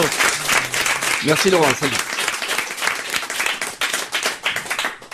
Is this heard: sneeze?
no